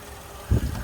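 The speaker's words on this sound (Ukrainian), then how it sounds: "як бачимо при знятті кришки, нічого не помінялося, двигун працює рівно" A Skoda Octavia A5 with the 1.6 MPI petrol engine idles with its cover off, a low, even rumble heard up close that swells briefly near the end.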